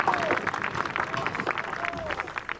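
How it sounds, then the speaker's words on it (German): Crowd applause in a homecoming scene for a painter of the Ausseerland, scattered clapping and murmuring from a gathered crowd at moderate volume, with a few faint voices mixed in. "Applaus!"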